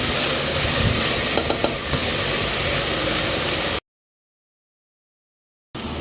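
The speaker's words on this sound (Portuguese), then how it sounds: "Vou deixar refogar um pouquinho." Beef ribs sautéing in a pan for barbecue-sauce ribs, a steady loud hiss and sizzle that cuts off abruptly into silence and then resumes briefly.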